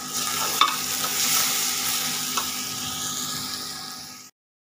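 Ginger and onion fry in a pan, a steady loud sizzle running continuously with a few faint stirring clicks before cutting off abruptly.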